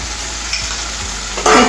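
Masala with a spoonful of tomato ketchup being stirred in a pan for masala bread, a steady oily sizzle with scraping strokes that swell into a louder, brighter burst of frying near the end.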